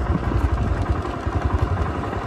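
A motorcycle engine running nearby with a rough, pulsing low rumble, loud and continuous for a couple of seconds.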